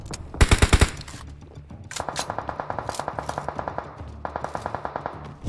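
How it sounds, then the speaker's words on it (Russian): Rapid automatic gunfire in PUBG Mobile: a short loud burst up front, then a long steady string of evenly spaced shots with a brief gap, sounding a bit more distant and quieter than the first burst. "по ним кто-то стреляет с той стороны"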